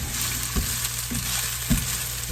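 Vegetables sweat gently in olive oil for a cauliflower casserole, an even, moderately loud sizzle with three distinct stirring knocks at regular intervals and no talking.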